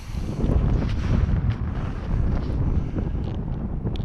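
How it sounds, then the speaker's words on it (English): Strong wind buffets a microphone outdoors on open water beside a boat during ice-hole fishing, a steady roaring gust noise with low rumbling surges that rise and fall throughout, no voices. "Pretty windy out here today."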